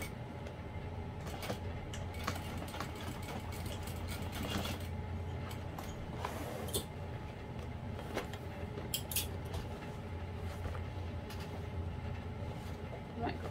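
A sewing machine runs steadily over thick vinyl corner seams of a bowler bag, a continuous close mechanical rattle and hum with occasional sharper clicks.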